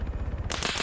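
A vehicle-mounted machine gun fires in a military video game as a loud automatic burst that starts abruptly and carries on steadily, close and harsh over a rumbling background.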